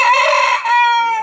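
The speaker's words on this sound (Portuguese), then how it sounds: "aquele galo também ali" A nearby rooster crows loudly at a rural corn roast beside a campfire, one long strained cock-a-doodle-doo call with a brief break midway before trailing off, with no talk.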